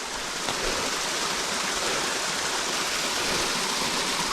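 Fresh, cold snowmelt runoff rushes in a mountain stream on Burke Mountain, British Columbia, producing a loud, steady, unbroken broadband roar of flowing water close by with no voices.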